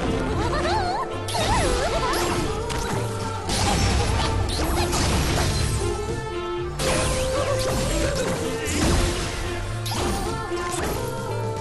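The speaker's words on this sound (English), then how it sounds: "Some more Donkey Kong style barrel blasting." Dense, continuous crashing and smashing effects from barrel-blasting gameplay in the Ms. Splosion Man video game, with whooshes and clatter layered over game music throughout.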